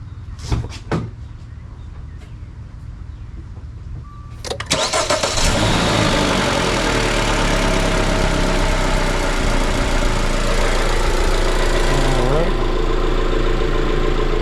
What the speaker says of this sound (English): And then you can go ahead and start it up just to make sure everything is good.